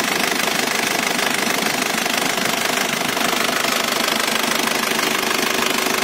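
A diesel engine in a 2000 Isuzu Panther New Royal idles up close, its steady clattering knock running without pause for the whole stretch, with no voices over it.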